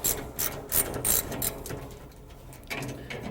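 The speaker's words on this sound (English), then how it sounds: "take these few bolts holding this hinge on" Ratchet clicking steadily in short bursts as hinge bolts come off a car's hood, close and fairly loud, pausing briefly near the end before resuming.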